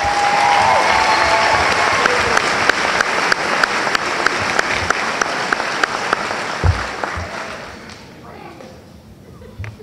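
A crowd at a 12th grade graduation award ceremony applauds, dense sustained clapping with a few sharper claps standing out, fading toward the end.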